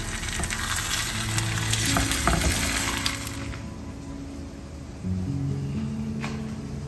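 Pieces of seer fish (neymeen) frying in a pan, a loud dense sizzle with utensil clinks as a piece is moved, dropping quieter midway and then resuming, with no talk.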